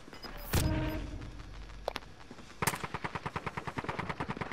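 Gunfire in Call of Duty: Modern Warfare, with a heavy blast, a few sharp single shots, then a rapid rhythmic burst of automatic fire, loud and close with no talk.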